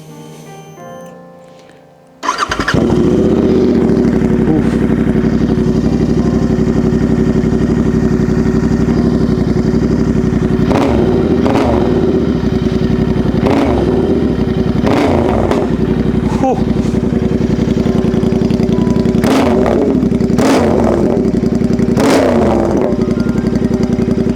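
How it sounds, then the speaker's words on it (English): A Royal Enfield Continental GT 650 motorcycle engine starts and runs loudly close by, a steady rumbling idle broken by several sharp revs. "let's turn the bike on. Let you guys hear it properly."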